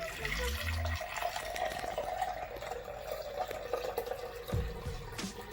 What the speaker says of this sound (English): I'm going to open this up, and we're just going to pour this in